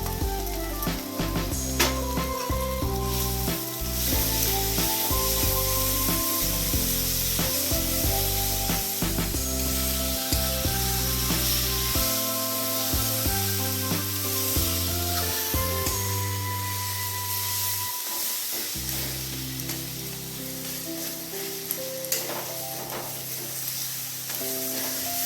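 Ginger, chili and garlic paste frying in a pan of spice masala, heard as a continuous close sizzle with bursts of spattering and utensil scraping, no voices.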